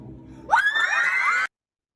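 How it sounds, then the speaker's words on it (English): Students burst into a loud, sustained scream of cheering and shouting that rises suddenly over a quieter murmur and cuts off abruptly after about a second. "if you heard that part at the end, shouting, cheering, screaming, and enthusiasm"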